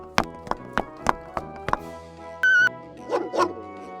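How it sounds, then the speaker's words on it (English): A playful dog gives a run of short, sharp barks spaced about a second apart, then a brief squeak toy-like tone and a few softer yips and whimpers, close and fairly loud. "Oh, Mrs. Hartnett, do stop playing with that doggy at once"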